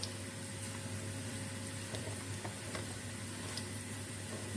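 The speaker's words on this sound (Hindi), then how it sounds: "अभी हम खड़े मसालों को भी प्याज के साथ ही फ्राई कर लेते हैं।" Whole spices and onion, with cinnamon, curry leaves, cloves, cumin and chili, fry in a pan for pilaf, giving a steady, low sizzling hiss with faint crackles, close and continuous.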